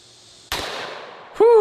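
One loud, sharp blast from a heavy-recoil gun rings out, with its roar decaying over about a second. A voice lets out a short exclamation right after.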